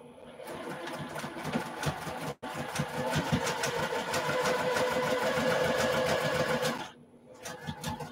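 A sewing machine hums and chatters in one steady, continuous run while stitching a seam on a quilt sampler block, with one tiny break partway through before it stops near the end.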